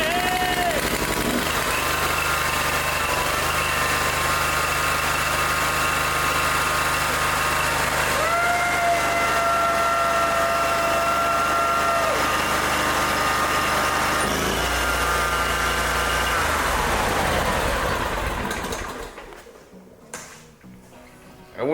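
A small engine on a ride-on mower or similar machine, sitting unused for three years, runs at a steady loud idle with the choke on, its whining tone shifting pitch a few times before it cuts off and falls quiet.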